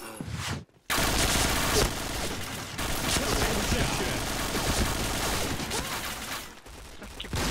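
Sustained bursts of automatic gunfire rattle through a Point Blank shooter match, dense and rapid, with a brief gap near the start and volleys continuing to the end.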